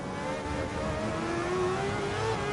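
In Gran Turismo 7, race car engines drone during an overtake on the 100R, a steady nearby engine note climbing slowly in pitch with a second engine underneath, no voices.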